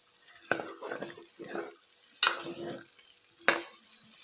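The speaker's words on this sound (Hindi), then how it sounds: "प्याज़ों के साथ अरबी की भुनाई करेंगे" Onions and arbi (taro root) frying together: a soft sizzle carries through, with three sharp spatula knocks and bursts of stirring in between.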